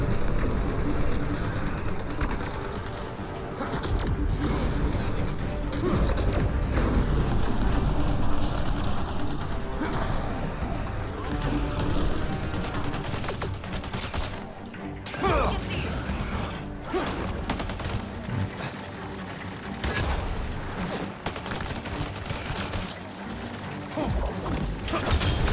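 Enemy gunfire in the sci-fi shooter Mass Effect: Andromeda, a dense continuous clatter of weapon fire and mechanical impacts mixed with game effects and music, loud and sustained throughout.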